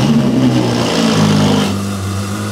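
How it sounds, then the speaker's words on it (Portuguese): Ferrari V10 engine running close by, a loud rumbling drone that swells and settles, heard alone. "Está na altura de ligar os carros."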